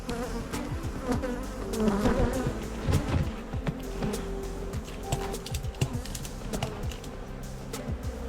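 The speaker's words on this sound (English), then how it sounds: "Yeah, I think we have a swarm." A swarm of honeybees buzzes steadily and densely at close range, with individual bees zipping past the listener at varying pitches throughout.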